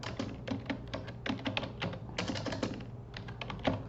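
Fingers type on a computer keyboard in quick, irregular bursts of close, crisp key clicks, with short pauses between runs and no talking.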